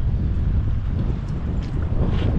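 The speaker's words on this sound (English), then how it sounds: "So it's just gusts." Strong, near-gale wind gusts roar across a sailboat at anchor in the lee of a big hill. The wind makes a steady, dense rushing noise with microphone buffeting and a faint rattle.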